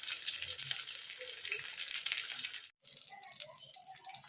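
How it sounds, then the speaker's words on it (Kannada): Bangude mackerel pulimunchi fries slowly in oil in a pan, giving a steady, dense sizzle that breaks off briefly and then returns with softer crackling. "ಇದು ಹೀಗೆ ನಿಧಾನಕ್ಕೆ ಫ್ರೈ ಆಗಲಿ."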